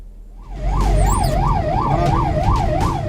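An ambulance siren wails on a road, its rising and falling tone repeating steadily and loudly up close, over a low rumble of traffic.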